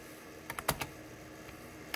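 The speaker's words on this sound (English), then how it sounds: "I'm doing this with one hand, so I'm not typing very quickly." Slow one-handed typing on a computer keyboard during a DOS file copy for vintage floppy disk drives: a handful of sparse, close keystrokes clustered near the start, then a pause and one last tap.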